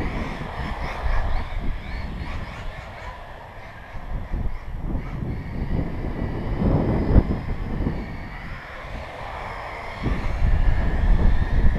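Kyosho RC car driving on a C3 session track, a continuous whining motor drone that swells and surges as it accelerates, fairly loud and steady throughout, with no talking.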